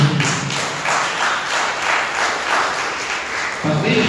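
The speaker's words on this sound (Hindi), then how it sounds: "ताली बजा के प्रभु" A congregation claps in praise during a Sunday service sermon, with dense, rhythmic clapping that pulses steadily and voices mixed in beneath it.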